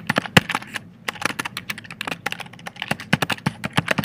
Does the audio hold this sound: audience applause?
no